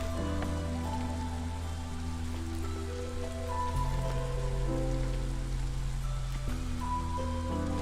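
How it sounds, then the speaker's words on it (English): Steady rain falls in the video game Against the Storm as a continuous even hiss, with sustained musical tones running underneath. "rain collector time"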